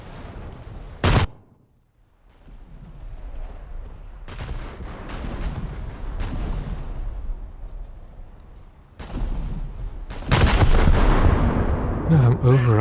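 Heavy naval gunfire booms in a video game battle against Russian cruisers, with sharp salvo blasts followed by a long rumbling roar and a dense final barrage, loud and close throughout.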